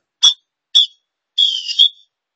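Three sharp blasts from a Fox 40 Classic pealess plastic whistle: two short chirps followed by a longer held blast with a brief flutter at its end, loud and close with silence between.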